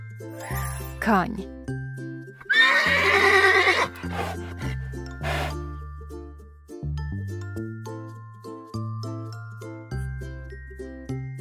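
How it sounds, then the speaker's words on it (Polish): A horse neighs loudly in a farm-animal sound sequence for children, a long shrill whinny standing out amid bouncy tinkling music, with a voice briefly naming animals around it. "Koń."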